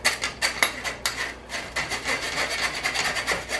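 A spoon scraping baking cocoa through a metal sieve, a close series of rhythmic rasping strokes, about two per second, steady and fairly loud with no talk.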